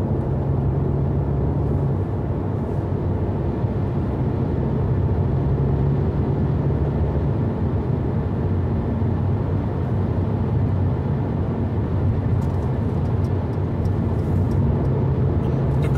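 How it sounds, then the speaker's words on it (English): Car accelerating toward 130 km/h with driver-assist engaged, a steady loud engine and road drone filling the whole stretch with no break or obvious rise, heard from inside the cabin. "let's put it in 130 and see how the car accelerates itself"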